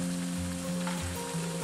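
Cabbage, garlic and onion drop into a pan where a burger is frying, and a steady loud sizzle runs beneath with no talking.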